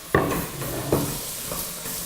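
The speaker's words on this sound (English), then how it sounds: "we're just frying that through a little bit" Onions, garlic and potatoes frying in oil in a pot for pumpkin soup, a steady sizzle broken by two scraping stirs early on, close and fairly loud, with no voices.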